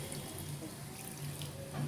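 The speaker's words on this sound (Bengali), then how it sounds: "ভিউয়ার্স, সামান্য পানি দিয়ে দেব" Water is poured into a pan of hilsa fish curry with winter vegetables, a steady, soft continuous trickle, fairly quiet and unbroken, with no voices.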